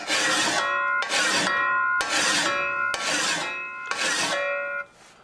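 A file scrapes along the edge of a garden spade in five long, loud, even strokes, each a harsh ringing rasp followed by a brief gap.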